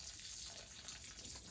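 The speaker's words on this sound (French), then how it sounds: "l'arrosage de la salade, toujours au goulot et tout autour." Water pours from a watering can spout onto winter lettuce plants, a continuous soft splashing hiss with no pauses and no voices.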